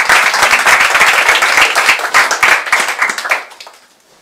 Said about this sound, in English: Yeah, you can make a round of applause.